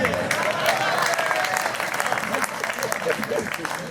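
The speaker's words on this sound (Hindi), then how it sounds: "भाई तालियां कम बजाई आपने यार, बेईमानी मत करो।" An audience at a Hindi poetry recital claps in a dense, steady patter that holds for several seconds, with a voice speaking over the applause.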